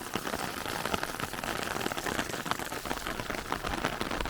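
Heavy rain patters densely on a surface, a constant hiss with scattered drops, moderately close.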